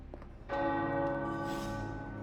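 A bell tower bell in the video game Marvel's Midnight Suns strikes once with a sharp onset, then rings out in a sustained, resonant metallic tone that slowly decays, clear and alone without speech.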